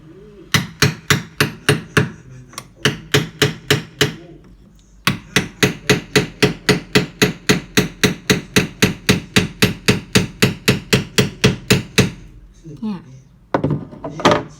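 A hammer strikes repeatedly while a built-in condo cabinet is dismantled, landing in loud, close, evenly paced bursts of blows with brief pauses between runs and a few looser knocks at the end.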